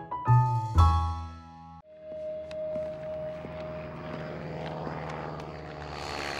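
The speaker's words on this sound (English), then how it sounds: "a monkey sees a plane writing words in the sky" A cartoon propeller plane skywriting overhead, a steady droning engine hum that follows a loud musical chord, with no talking.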